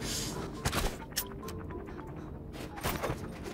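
Gunfire in a shooter video game comes as dense, muffled bursts and cracks layered over constant game noise at moderate level, with a few sharper shots standing out.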